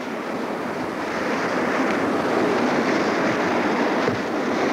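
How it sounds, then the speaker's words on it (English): Big breaker waves on the wild rapids of the Owyhee River roar in a steady, dense wash of rushing water that swells slightly toward the middle, loud and close with no voices. "Here comes a big breaker."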